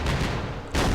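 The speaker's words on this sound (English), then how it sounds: "There's another mortar." Mortar fire in Campaign Series Vietnam at Dien Bien Phu: a dense, roaring blast of noise that sags briefly, then a second loud burst hits, all within a single second and with no voices.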